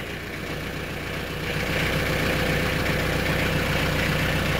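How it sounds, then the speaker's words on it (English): A small red tractor with a brush hog on the back idles steadily, then its engine note rises and holds louder as it is revved, close and continuous with no talk. "There's the tractor sound there. Rev that up a little bit."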